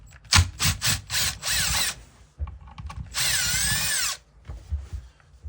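A power tool whines while removing the starter from a Husqvarna 365 chainsaw, running in a few short pulses and then two longer sustained bursts with pitch shifts, close and loud, with quiet gaps between.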